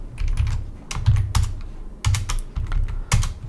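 Rapid typing on a computer keyboard while writing code, with bursts of clicking keystrokes close to the microphone separated by short pauses.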